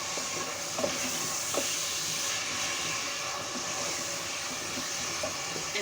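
Steady loud sizzling and hissing of okra frying in a hot pot, with occasional faint stirring clicks.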